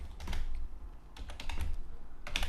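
Quick, uneven keystrokes on a computer keyboard while entering code, clustered into short bursts with brief pauses, close and fairly quiet over a low background hum.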